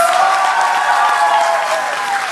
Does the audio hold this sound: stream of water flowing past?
no